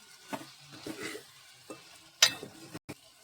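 Chicken curry is stirred in a pan with a spoon: soft irregular scraping strokes and faint sizzling, then one sharp metallic clink against the pan, all close and fairly quiet with no talk.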